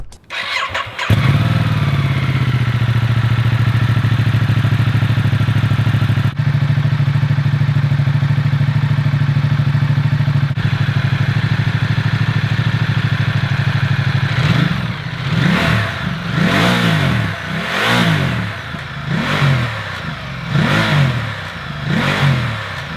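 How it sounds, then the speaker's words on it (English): A 2019 Ducati Multistrada 1260 with its stock exhaust starts up close by and idles loud and steady, then gets a series of sharp throttle blips, about half a dozen rhythmic revs near the end. "Next thing we need to do is the sound test on the Multistrada."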